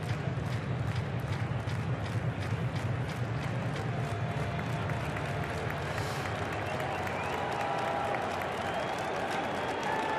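Baseball stadium crowd at an opening day game applauding and clapping, a dense, continuous roar of many hands with steady loudness throughout, no talking distinguishable.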